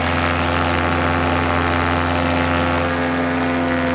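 A small paramotor engine drones steadily in flight on the Oregon coast, a loud continuous buzz with a steady propeller hum and wind rushing over it, no voices.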